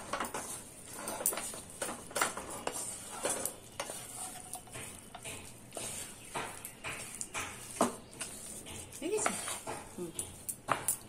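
A vegetable chop mixture spiced with a little cinnamon is kneaded by hand in a bowl, giving steady soft squelching and pressing sounds with occasional clinks of the bowl.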